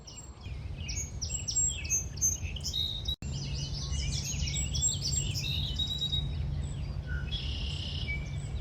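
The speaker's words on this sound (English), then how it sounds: "You really hear a lot of the birds." Many birds chirp and trill in overlapping bursts over a steady low rumble of distant background noise in a marsh at Indiana Dunes National Park's Great Marsh Trail, with no talking.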